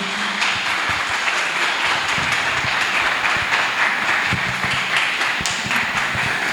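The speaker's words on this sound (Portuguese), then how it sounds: "a gente receba essa pessoa com palmas" A lecture audience claps to welcome a guest speaker, producing a thick, continuous wash of many hands with scattered sharper claps standing out throughout.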